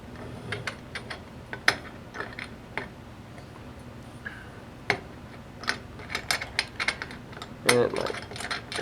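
Small plastic and metal parts of a water cooler install kit clicking and ticking as a threaded piece is screwed on by hand, with scattered light taps and ratchet-like clicks at close range, fairly quiet.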